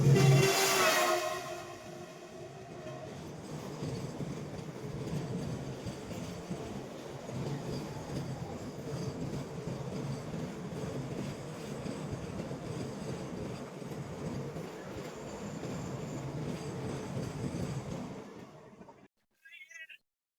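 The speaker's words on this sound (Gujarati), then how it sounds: "ये ट्रेन ना अभी इतनी फास्ट गई है ना कि आप सोच नहीं सकते 100 की स्पीड से ट्रेन गई है" A train roars past at around 100 km/h close to a stationary train, a dense continuous rush and rattle of wheels and cars that holds loud for about seventeen seconds, then cuts off abruptly.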